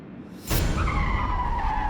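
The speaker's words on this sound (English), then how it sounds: "a car had swerved off the road straight their way, and Michelle got severely injured." A car swerving off the road with a sudden loud tire skid that bursts in and holds as a long, sustained squeal, close and alone.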